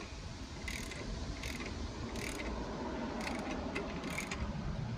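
Adjustable wrench ratcheting a control arm bolt tight on a 12-valve Cummins, a steady run of close mechanical clicks with brief bursts of metallic rasping over low background rumble.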